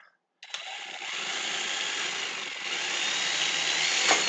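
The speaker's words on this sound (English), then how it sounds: "They're supposed to be self-tapping for putting into metal studs" A power drill drives self-tapping screws into metal studs, its motor whirring continuously and close for about four seconds after a brief silence, with a slight strain near the end.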